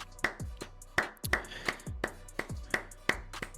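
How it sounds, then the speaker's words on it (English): Roughly six sharp hand claps in an uneven rhythm, fairly close and distinct against a quiet background. "I'm going to have to clap it up for Joan Laporta."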